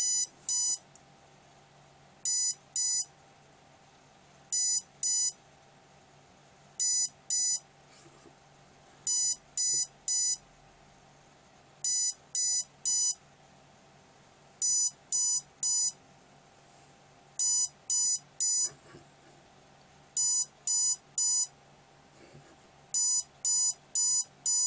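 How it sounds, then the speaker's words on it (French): Electronic speed controller on a multirotor wired to a KK2.0 flight board beeps in repeated short groups during throttle calibration, bursts of quick high tones separated by pauses, steady and clear over a faint background hum. "Voilà, donc je suis sur le groupe des 4 bips."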